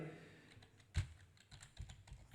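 Someone types on a computer keyboard: a handful of soft, irregular key clicks, one sharper tap, all quiet and close with no talking.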